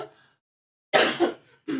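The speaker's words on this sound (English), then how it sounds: "I have to cough." A person with bad allergies coughs indoors, a short sharp double cough close to the microphone after a brief quiet pause, with a throat-clearing sound before it.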